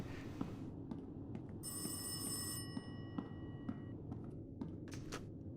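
An old-fashioned telephone bell rings in a bursting pattern in the indie horror game Rise of Insanity. The ring is faint and slightly distant over a low ambient hum, with soft knocks in between.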